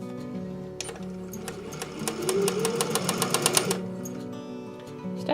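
A sewing machine being fixed of a squeak runs in a quick, even burst of rhythmic stitching that builds and then slows to a stop, close and clear.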